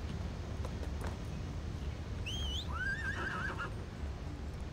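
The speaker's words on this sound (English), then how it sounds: "if I get on my horse, he doesn't move very fast" A horse in the ArcheAge video game lets out a short, rising whinny over a low, steady game ambience, the neigh coming once in the middle of the clip with no speech.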